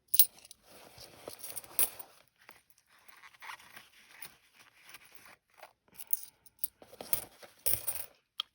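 Saved coins are handled and dropped, giving repeated sharp metallic clinks and jingles in irregular bursts, close and fairly loud against a quiet room, with soft rustling between the impacts.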